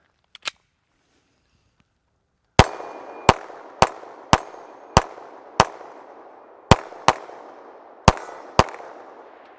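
A Smith & Wesson Shield EZ pistol in 30 Super Carry fires about a dozen shots outdoors in snow, one isolated crack followed after a pause by a steady string of sharp reports with short echoing tails.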